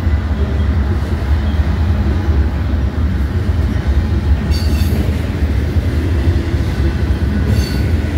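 A freight train with distributed power units rumbles past close by, a loud continuous roar of rolling wheels with brief metallic squeals and clacks breaking through twice.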